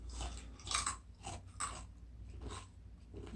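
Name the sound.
crunchy chewing sound made for animation foley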